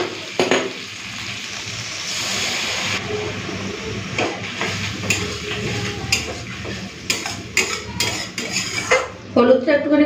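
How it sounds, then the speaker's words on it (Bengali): Mustard paste water goes into a pan of frying potatoes and okra, bringing sizzling and bubbling with clattering utensil scrapes and knocks against the pan, loud and busy throughout. "এখন এই সরষে বাটা জলটা দিয়ে দেবো"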